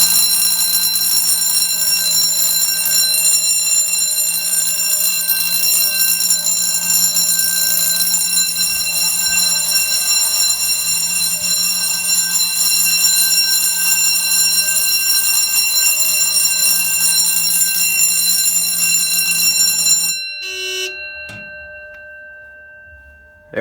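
An Edwards 6632 fire alarm panel sounds continuously after a pull station test, giving a loud, steady electronic alarm tone that holds for about twenty seconds and then cuts off, leaving brief faint residual tones.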